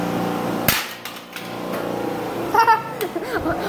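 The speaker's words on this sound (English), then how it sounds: "Alright, so we're gonna hammer this thing." Sledgehammer striking a treadmill: a few sharp metallic bangs spaced irregularly, loud and close, with children and adults talking and laughing around the impacts.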